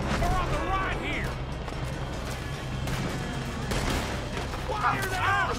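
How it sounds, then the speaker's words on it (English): Loud, continuous gunfire with rapid rifle and pistol shots echoes through a shootout in Red Dead Redemption 2, while people shout and talk over the dense volleys. "Why are they all shooting at me?"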